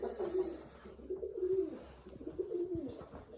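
Pigeons coo in a low, steady, rolling series, close by and fairly loud, with a few soft wingbeats or rustles underneath and no talking.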